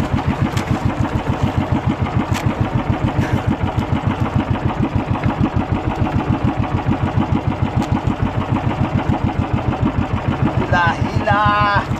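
A motor boat engine, on a large wooden outrigger banca, chugs in a fast, steady, loud rhythm throughout, with voices heard briefly near the end.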